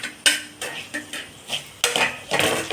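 A spoon stirs Kashmiri chili powder and fenugreek powder into lemon pickle in a metal vessel, scraping and clinking against the sides in quick repeated strokes, close and distinct with no voices.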